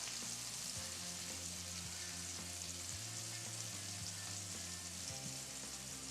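Whitefish and trout frying in a pan, a quiet continuous sizzle and crackle with faint low tonal hum shifting underneath, steady throughout with no speech.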